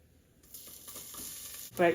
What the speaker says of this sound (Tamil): இப்போ இந்த கடுகு சீரகம் எல்லாம் பொறிஞ்சு கொண்டு இருக்குது அதுக்குள்ள நான் இப்போ இந்த இடித்து வச்ச உள்ளியையும் போடுறேன்